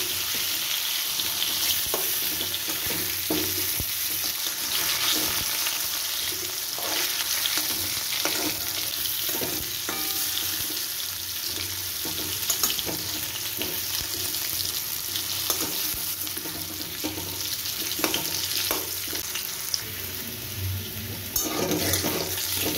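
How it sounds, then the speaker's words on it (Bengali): Potato pieces fry in hot oil in a pan, a constant loud sizzle and bubbling hiss with occasional scraping clinks from stirring, running steadily without any speech. "আলুগুলোকে আমি খুব ভালো করে ভেজে নেব।"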